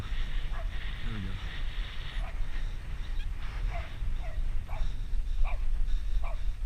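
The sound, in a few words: dog barking while chasing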